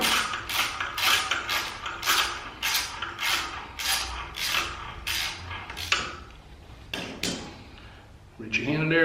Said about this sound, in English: I'm using a T25 Torx bit here to remove the screw off here